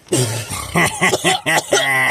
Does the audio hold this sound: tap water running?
no